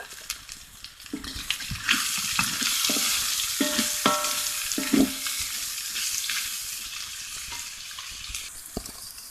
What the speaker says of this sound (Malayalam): സവാള ഇതെല്ലാം കൂടി ഒന്ന് വഴറ്റിയെടുക്കണം